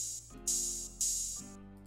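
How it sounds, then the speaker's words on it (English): Two bright, sizzling open hi-hat hits ring out over a sustained low electronic tone, each one decaying slowly. "It's just an open hat that plays once at the beginning of every bar."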